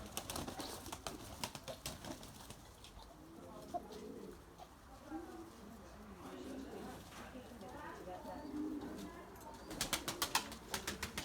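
A loft of Erzurum white breeding pigeons, some seventy to eighty birds, coos softly and continuously at middle distance, with occasional wing flaps and clattering at the start and end.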